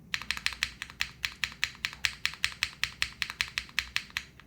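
Fast, steady typing on an Arc60 plateless keyboard, mostly on its space bar, a string of crisp, clacky keystrokes close up and alone.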